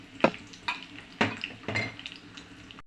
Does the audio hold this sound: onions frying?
yes